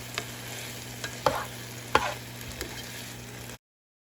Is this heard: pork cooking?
yes